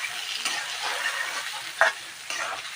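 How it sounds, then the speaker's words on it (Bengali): Potatoes fry and sizzle in hot oil with salt and turmeric in a home kitchen, a steady close crackle broken by a couple of stirring scrapes, with no talk. "এবার আমি আলুগুলো কিছুক্ষণ টাইম লাগিয়ে ভাজা করে নেব খুব সুন্দর করে।"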